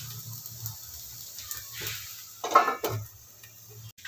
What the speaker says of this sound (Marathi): आता मी त्याच्यावर झाकण ठेवते.